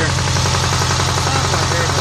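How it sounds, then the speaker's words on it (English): A Honda GL1100 motorcycle engine runs at a steady idle with a rapid, loud, rhythmic knocking or ticking that may come from an exhaust leak, close up with no talking. "sounds like there's a knock, and I'm not sure if that's an exhaust leak or if that is a knock in the engine"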